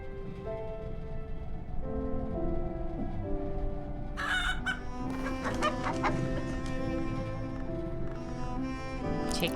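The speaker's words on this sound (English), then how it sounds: "Take egg from chicken." A chicken clucks in the video game Book of Hours, soft and fairly distant at first over a sustained musical backdrop, then a burst of busier, sharper clucking and crowing-like calls joins in about halfway through.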